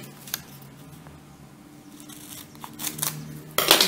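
Scissors snip through folded origami paper for a modular kusudama, a few crisp close cuts with soft paper rustle in between and a louder snip near the end, no talking.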